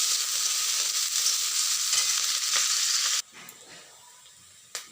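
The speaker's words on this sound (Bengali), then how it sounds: "পেঁয়াজের সাথে দিই, ভাজা হোক।" Dried fish hits hot oil with chopped onions, giving a loud, steady sizzle and crackle that drops suddenly to a quiet, faint hiss, followed by a brief scrape.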